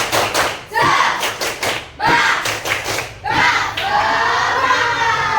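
Classroom of schoolchildren at an Islamic religious education lesson doing a rhythmic spirit clap: bursts of group clapping in quick patterned beats, shouts between sets, and a rising cheer at the end.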